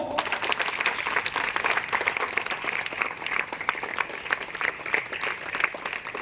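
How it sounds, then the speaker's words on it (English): Schoolchildren and guests at a Dr. A.P.J. Abdul Kalam Jayanti celebration clap for the former president, producing sustained, dense applause with crisp individual claps standing out across the crowd, fairly close and without speech. "It is a clapping for the biggest scientist of our country, the missile man, the people's president of our country"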